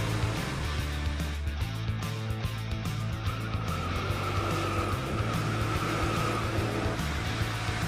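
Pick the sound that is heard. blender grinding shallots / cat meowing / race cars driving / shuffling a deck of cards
race cars driving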